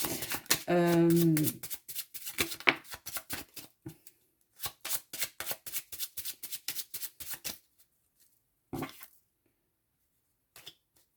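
Tarot cards shuffled and riffled by hand, rapid papery flutters in bursts close by, with a brief hum or voice near the start and a pause before a few final snaps.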